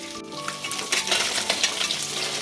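Fresh pond fish frying in hot oil, a busy crackling sizzle with bursts of spatter, fairly close and steady with no voices over it.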